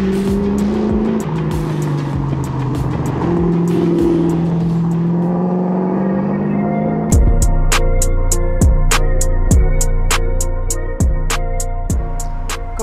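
A car engine revs and climbs past 4000 rpm while driving, a strained rising pull that shifts partway through into a louder, harsher drone with regular sharp clicks over a steady low rumble.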